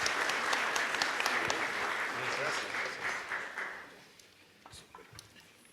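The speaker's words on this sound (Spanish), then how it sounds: "Les pido un aplauso para los compañeros, por favor." Applause from a forum debate audience for the panelists, with crisp, close hand claps over a wash of clapping that keeps up for several seconds, then thins out and fades to scattered claps near the end.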